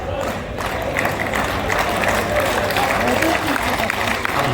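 An audience applauds at a poetry recital by Surendra Sharma in Chittorgarh, a steady, dense clapping that fills the space and mixes with crowd murmur.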